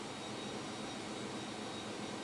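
Airbus A321neo jet engines spin in Microsoft Flight Simulator, giving a steady, faint, broadband roar and whoosh that holds constant with no talking over it.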